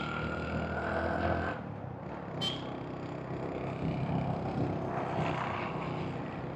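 A 1995 Honda CD100 100cc motorcycle engine drones while riding, a moderate steady hum mixed with wind and road rush, with a brief sharp high sound partway through.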